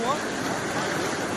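Strong monsoon floodwater rushes close by near the Gira waterfall in Dang, a dense, continuous roar of flowing current with voices talking faintly under it.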